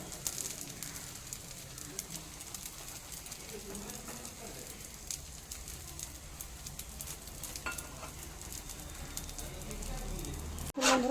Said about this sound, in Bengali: এই অপর পাশটাও আরও 2 মিনিটের মতো ভেজে নিচ্ছি।